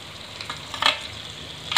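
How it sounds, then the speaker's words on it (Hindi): Fried vegetables are stirred into masala in a kadai for kadai paneer: a low background sizzle broken by two or three sharp scraping clatters of the spoon against the pan. "अभी इसमें डालूंगी ये सब्जियां जो कि मैंने फ्राई कर रखी थी, इनको डाल देते हैं मैंने मसाले में।"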